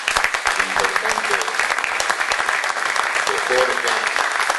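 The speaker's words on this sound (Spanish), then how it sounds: "pido un aplauso para Daniel" A political crowd at a welcome speech breaks into dense, loud applause. The clapping is continuous and close, with a few faint voices mixed into the din.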